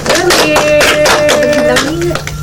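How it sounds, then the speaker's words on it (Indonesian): Loud, close applause from a small group in a university career-guidance session, a dense burst of clapping lasting a couple of seconds with voices talking and a tonal hum running underneath. "tepuk tangan buat Berlin"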